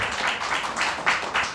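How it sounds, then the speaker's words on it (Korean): A live audience claps in welcome for a guest at a Korean book talk event, a dense, steady patter of applause rising in small swells, fairly close and without speech over it. "여러분 큰 박수로 환영해 주시기 바랍니다"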